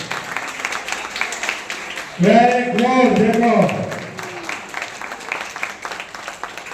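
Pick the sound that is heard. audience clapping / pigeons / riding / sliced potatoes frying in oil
audience clapping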